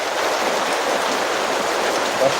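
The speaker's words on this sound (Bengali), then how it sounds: "এখন রাত্রেবেলা প্রচুর বৃষ্টি হইতেছে রাত সাড়ে দশটা বাজে এই দেখেন বৃষ্টির অবস্থা" Heavy rain falling at night in Madhabpur, Habiganj district, a dense steady broadband roar of downpour without letup, close and loud throughout.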